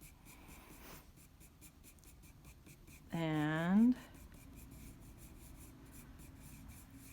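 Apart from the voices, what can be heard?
pencil shading on paper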